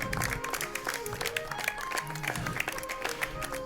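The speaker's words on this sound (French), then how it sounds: "un tonnerre d'applaudissements pour Juliette, Léo et Baryton" Audience applause and cheering for two performers and Baryton, a young Comtois draft horse rescued from slaughter, at an outdoor bird-and-horse show; dense, steady clapping with some voices mixed in throughout.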